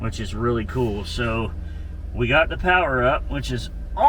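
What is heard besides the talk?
No everyday noise stands out behind the speech.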